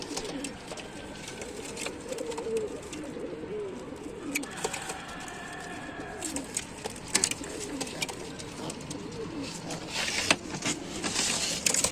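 Domestic pigeons in a loft in Tanta, Egypt coo in low, repeated murmurs, with scattered clicks, wing shuffles and rustling noises close by.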